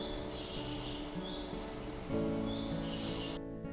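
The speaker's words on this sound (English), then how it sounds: "The bird sounds are even piped into the bathrooms." Recorded birdsong plays through speakers in a bathroom at Helsinki airport, with repeated bright chirps and short calls over a low hum of room noise.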